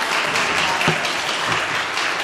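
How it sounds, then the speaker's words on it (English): An audience applauds at a Monterey County Poetry Out Loud competition, dense steady clapping that fills the short stretch at even volume. "Please give them a warm, wonderful round of applause."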